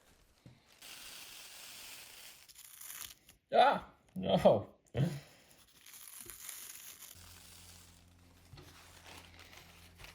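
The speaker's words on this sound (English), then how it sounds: "Even squished all together, it wouldn't even make one nice sheet of paper." Thin homemade celery paper sheets crumple and crinkle in a few short, sharp bursts close by, between quiet pauses, with a brief spoken word.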